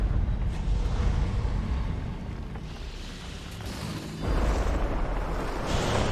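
A bloodstone explodes in Guild Wars 2, a broad roaring rumble that dips briefly, then surges back louder and holds as a sustained, wind-like boom.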